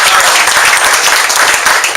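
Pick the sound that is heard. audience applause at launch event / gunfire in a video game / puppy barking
audience applause at launch event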